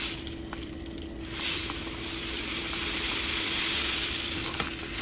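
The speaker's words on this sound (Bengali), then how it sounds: "এখান থেকেই আমি এই পোস্ত ঢেলে দিই" Poppy seeds pour from an old, long-used kitchen container, making a continuous hissing, sandy trickle that swells and stays fairly loud for several seconds, with a faint hum underneath.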